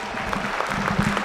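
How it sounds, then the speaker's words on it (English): Applause from the audience at a middle school 6th grade spring band concert, a short burst of many hands clapping in a dense, lively patter. "Give them another round of applause"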